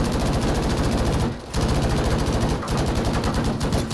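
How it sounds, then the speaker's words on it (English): Rapid automatic gunfire in the shooter game Battlefield 5: a loud, near, unbroken stream of rounds with two short pauses between long bursts, no voices over it. "All that fucking rounds are firing at the poor guy."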